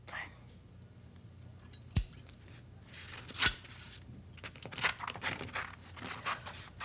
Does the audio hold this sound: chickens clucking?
no